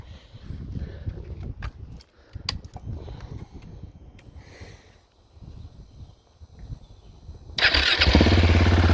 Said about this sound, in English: All right, fire it up so you can hear the difference.